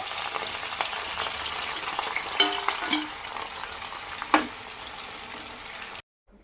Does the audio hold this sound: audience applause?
no